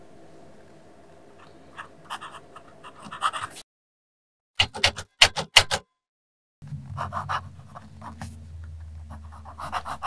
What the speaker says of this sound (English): I'm writing on quad rule paper at this moment